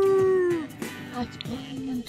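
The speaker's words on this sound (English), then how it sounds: "Oh, don't howl again, please." A werewolf in The Sims video game lets out a drawn, wavering howl with falling pitch, followed by shorter whimpering yips and howl fragments in a dense game soundscape.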